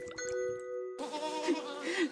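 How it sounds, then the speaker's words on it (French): A small goat gives one drawn-out, wavering bleat close by, and a voice follows right after it. "Gertrude, petite chèvre bienheureuse qui a tenu à nous faire passer un message"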